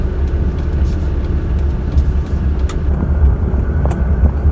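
A car drives in second gear on a figure-eight driving-test track on a slope, its engine producing a steady low rumble with wind buffeting across the microphone throughout.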